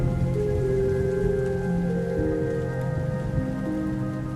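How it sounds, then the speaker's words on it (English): Rain beginning to fall at an ancient ruin site, a steady soft patter of drops that holds at an even level throughout, with a faint steady hum running underneath and no talking. "Starting to get some rain."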